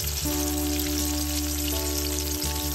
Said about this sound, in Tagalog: Ito yung update natin sa ating pinipirito na chicken joy ni Diwata